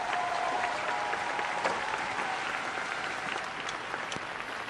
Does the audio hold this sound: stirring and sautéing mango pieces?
no